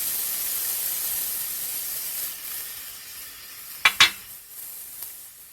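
Chopped onion going into hot peanut oil in a pan, a soft steady hiss of frying followed by a couple of sharp clinks of a utensil against the pan as the sizzle settles.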